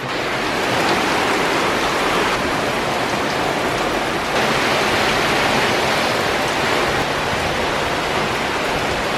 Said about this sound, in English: the rain is just insane, it's constantly been raining